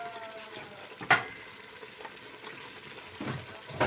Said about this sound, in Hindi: अब हम इसमें डाल देंगे अपने चिकन